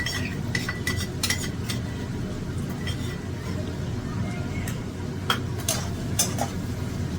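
Spoon scraping and clinking in a pan as mustard paste is stirred into tangra fish curry, light irregular taps over a soft steady sizzle, with a quiet voice talking.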